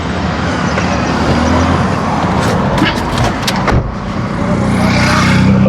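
Road traffic beside a parked taxi on a mountain route to the Dhari Devi temple, a steady engine and tyre roar with passing vehicles throughout, loud and close, with a brief horn-like burst midway.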